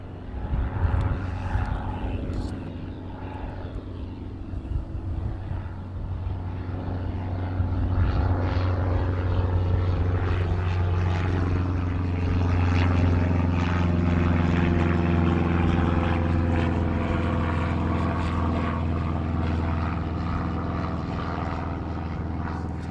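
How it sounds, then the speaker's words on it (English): A Cessna 152 light propeller plane departs East Midlands Airport in the evening, its engine drone building steadily and holding loud and near, a continuous buzzing roar with no talk over it. "There we go, the 152 departing out this evening"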